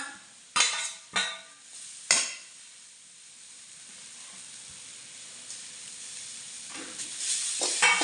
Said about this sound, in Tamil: ஒரு மூடி தேங்காய் எடுத்து திருவி வச்சுருக்கேன் அதையும் வறுத்து வதக்கிக்கலாம்